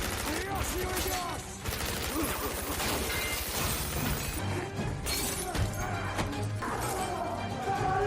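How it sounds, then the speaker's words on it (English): Gunmen open fire in a tense film action scene, producing a dense, loud barrage of rapid shots and crashing impacts that continues throughout, mixed with other dramatic sound. "some gunmen catch up and open fire"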